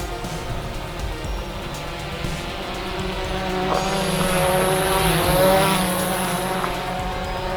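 PowerEgg X drone flying gently around nearby outdoors, its propellers making a steady whirring buzz that rises and falls in pitch as it moves, swelling louder midway before easing off.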